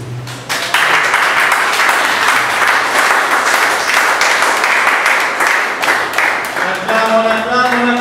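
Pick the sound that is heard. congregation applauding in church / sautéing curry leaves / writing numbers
congregation applauding in church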